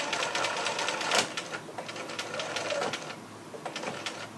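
A sewing machine stitches through a pinned fabric market bag in bursts of rapid mechanical needle chatter, close and fairly loud, slowing and pausing briefly between runs.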